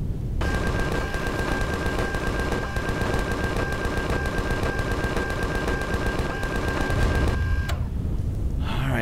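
A turret in the space game Empyrion fires in a relentless rapid burst of shots, loud and continuous for several seconds before cutting off abruptly.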